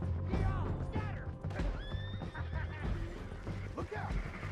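A horse in the Red Dead Redemption 2 video game gives a loud whinny over galloping hoofbeats, with shouting voices and commotion mixed underneath as the rider rushes away.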